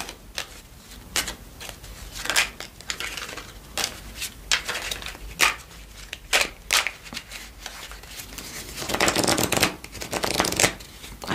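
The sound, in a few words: shuffling oracle cards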